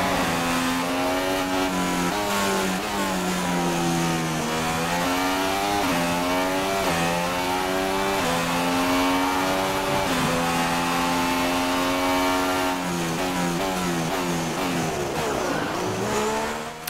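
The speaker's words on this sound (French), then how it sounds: "Je vous ai laissé un peu profiter du son en caméra embarquée du moteur Honda." A Honda Formula 1 engine heard from the onboard camera in the F1 2016 racing game screams continuously at high revs, its pitch rising and falling through gear changes and corners, loud and close with no talking.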